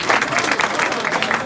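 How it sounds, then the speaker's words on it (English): Audience applause after a performance at a mental health and suicide event, a steady dense patter of many hands clapping close by for the whole moment, with a faint murmur of crowd voices underneath. "Can we give him a round of applause?"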